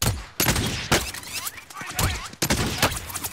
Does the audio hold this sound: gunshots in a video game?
yes